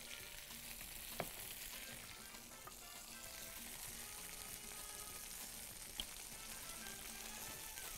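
A steady, hissing sizzle spreads evenly as sauce goes over potatoes in a chicken tray, with a couple of faint clicks. The sound is quiet and continuous, and no voices are heard.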